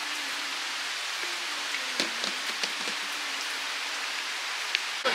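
Heavy rain pours steadily over a coffee farm at Tha Uthen, a dense hiss of falling water with scattered sharper drops tapping nearby.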